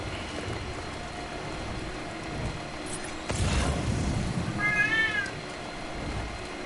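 Cat meowing in the video game Death Stranding, a single short meow from the game audio over rumbling ambient game sound, moderately loud, with no talking.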